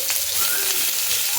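Cumin seeds and bay leaves crackle and sizzle steadily in hot oil for tempering, a dense, close, continuous frying hiss.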